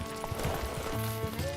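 The horse Roach trots in The Witcher 3: Blood and Wine, with soft, steady hoof clip-clops over a quiet ambient backdrop.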